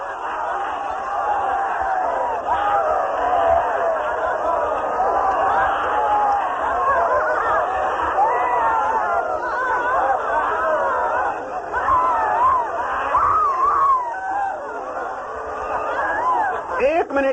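Group of people shouting, crying out and chattering together during the cathartic stage of an active meditation, a dense continuous wall of loud overlapping voices with no single speaker standing out.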